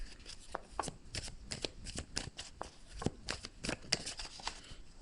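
A deck of tarot cards is shuffled by hand, giving quick, close riffling flutters and soft slaps in irregular bursts, fairly quiet and without talk.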